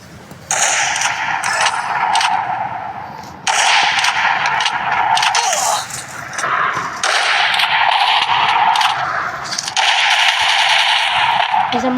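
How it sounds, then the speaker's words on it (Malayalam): Rapid bursts of video-game gunfire crackle almost without pause over a busy, loud backdrop of in-game noise, with brief quieter gaps between volleys. "വെടിവെക്കുന്നുണ്ട് ഗൈസ്"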